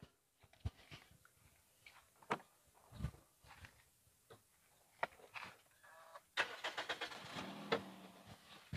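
A Toyota Vios automatic is started: quiet clicks and knocks lead into a short starter crank and the engine catching into a faint, smooth idle, heard up close.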